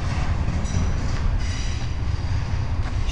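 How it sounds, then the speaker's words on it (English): Diesel locomotives roll past on the former Norfolk and Western main line in Roanoke, Virginia, a loud, steady rumble of engines and wheels close by throughout, with no talking. "We got, of course, these beautiful locomotives right here."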